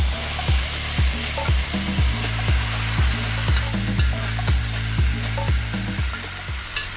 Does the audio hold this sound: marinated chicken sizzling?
yes